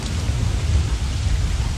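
Steady rain with low, rumbling thunder from a storm in the survival video game Don't Starve, a continuous broadband wash with a heavy low-end roll and no speech over it.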